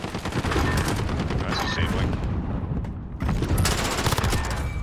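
Rapid P90 gunfire in a video game, loud dense automatic bursts running almost continuously with a brief gap partway through, and faint voices under it.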